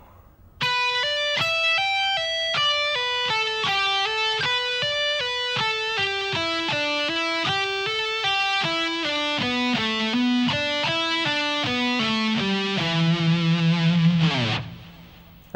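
Distorted electric guitar plays a fast shred lick at a slowed tempo, a steady run of single picked and pulled-off notes descending across the strings, loud and alone, ending on a sustained low note.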